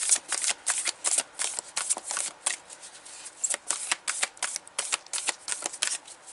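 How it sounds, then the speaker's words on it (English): A large deck of cards being shuffled by hand, with repeated crisp riffling bursts in a steady rhythm, close and fairly loud, no talking. "Let me shuffle it enough though"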